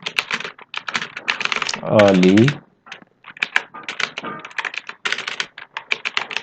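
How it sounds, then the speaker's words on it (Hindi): Rapid, uneven keystrokes clatter on a computer keyboard throughout, close and fairly loud, with a brief burst of speech partway through breaking into the typing. "ये मेरा थोड़ा सा कीबोर्ड जो है प्रॉब्लम कर रहा है।"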